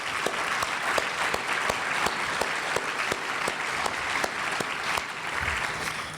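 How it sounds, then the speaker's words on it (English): Sustained audience applause fills a large hall at an annual meeting's opening session, dense and steady throughout with no voices on top. "give her a round of applause"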